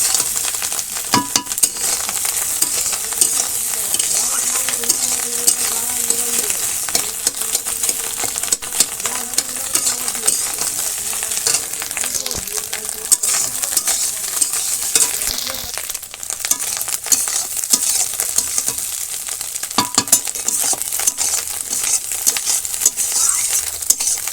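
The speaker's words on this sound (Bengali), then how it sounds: "এখন ডিমটা ভেজে নেবো মাছের জন্য" An egg fries in a pan in a village kitchen, a loud and steady sizzle with crackling and spattering that runs throughout, broken by occasional clinks of a utensil against the pan.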